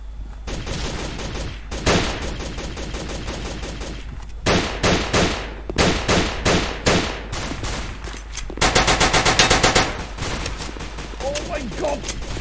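Rapid bursts of gunfire in the shooter game Combat Reloaded 2, dense automatic volleys and single shots repeating throughout, loud and close, with brief pauses between bursts.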